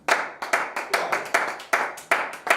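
A church congregation claps together in a steady rhythm to acclaim Jesus, about two sharp claps per second, loud and close with no voices over it.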